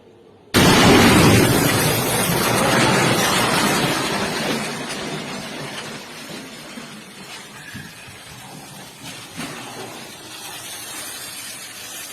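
A building in Tel Aviv is destroyed in a sudden loud explosion, a big blast that hits at once and then rolls into a long rumbling, hissing decay of collapse that fades over several seconds.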